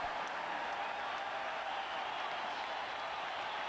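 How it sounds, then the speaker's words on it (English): A packed football stadium roars at the 1986 Holiday Bowl, Iowa against San Diego State, as the Aztecs retake the lead and fans wave towels; a steady, wide wash of cheering and applause holds throughout. "This crowd whooping it up here as the Aztecs retake the lead"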